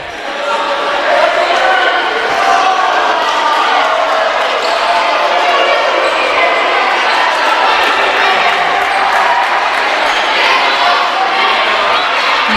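A crowd at a women's college basketball game cheers and chatters in a steady, loud, sustained roar filling the gym, with scattered shouts and court noise.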